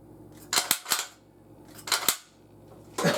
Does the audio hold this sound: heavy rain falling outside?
no